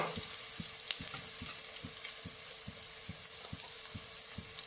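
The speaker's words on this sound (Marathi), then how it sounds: "आता याच्यामध्ये आपण मसाले घालून घेऊ" Spices for a mutton curry fry in a pan, a continuous close sizzle broken by regular scraping strokes of a stirring spoon, steady and moderately loud with no voices.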